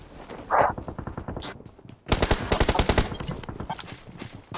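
Automatic gunfire in PUBG Mobile, with steady rapid rattling bursts that run almost without pause, growing louder and denser halfway through.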